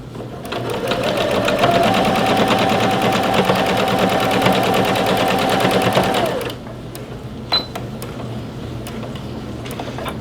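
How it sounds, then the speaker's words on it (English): Sewing machine sewing the other side of a triangular placket, a close, steady stitching hum running for about six seconds before stopping, followed by a few light clicks and quiet handling. "So that I can sew the other side of my placket, the other side of the triangle."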